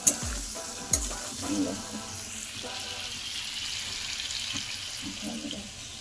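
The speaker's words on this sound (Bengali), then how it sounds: "আমি এতে আবার টমেটো দিয়ে দিয়েছি আর একটু ভাজা ভাজা হলে একটু মিষ্টি দিয়ে পোস্তটা ঢেলে দেবো" Tomato fries in a pan for a poppy-seed dish, giving a soft sizzle under scraping stir strokes, with two sharp knocks at the start and a faint watery background.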